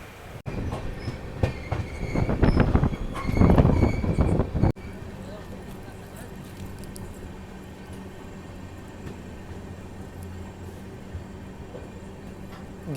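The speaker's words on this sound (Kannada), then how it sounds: "ಗಿನಿಗೆರೆ ರೈಲ್ವೆ ಸ್ಟೇಷನ್ಗೆ ಎಂಟ್ರ್ ಆದೀವಿ ರೀ" The Hampi Express rolls into Giningere railway station, with loud wheel rumble and squealing brakes for the first few seconds, then a quieter, steadier rolling clatter as it slows.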